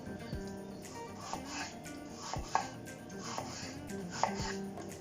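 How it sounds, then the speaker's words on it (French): Knife slicing peeled apples thinly for an apple tart, a few distinct soft cuts spaced through the clip with light tapping on a board, close and fairly quiet. "on va couper les pommes finement"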